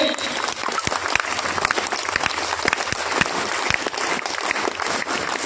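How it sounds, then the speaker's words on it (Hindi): Listeners at a Ramayana discourse clap vigorously to honour a pandit, a close, lively burst of many hands with distinct individual claps popping through the steady patter. "जोरदार एक बार वीर ताली के साथ सम्मानित करेंगे।"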